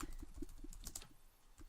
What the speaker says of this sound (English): we're both typing this up.